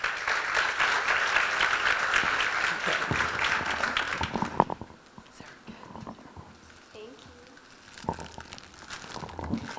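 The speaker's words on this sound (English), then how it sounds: "Let's give Sarah a round of applause" At a county fair queen pageant, an audience gives a flower girl a round of applause. The clapping is steady and fairly distant for the first few seconds, then fades into a quiet room.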